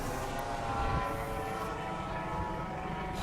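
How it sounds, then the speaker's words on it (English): A helicopter flies over a beach, a steady, droning engine and rotor hum with a gritty, rumbling texture that holds constant without any talking. "So, helicopter."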